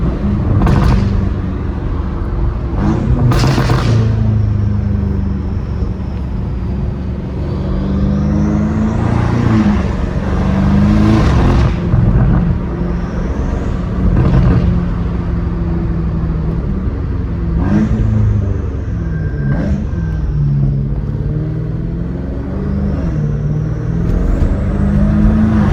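A straight-piped BMW M5 Competition roars and revs while driving, its loud exhaust rumbling continuously with repeated rises in pitch through gear changes, heard up close throughout.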